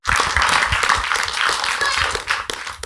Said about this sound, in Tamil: கமான் கைத்தட்டுங்க